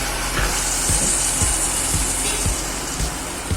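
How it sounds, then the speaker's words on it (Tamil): Tomatoes sauté with a little salt in a pan, giving a steady soft sizzle broken by regular light scrapes and taps from stirring. "டமாட்டோ, தக்காளியை நல்லா வதங்கி வரணும்."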